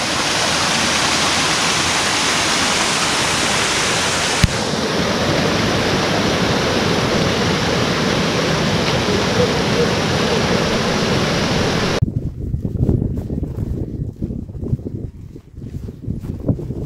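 Underground spring water pouring down in a steady, loud rushing roar close by, continuous for most of the stretch before dropping to a rougher, uneven splashing flow near the end.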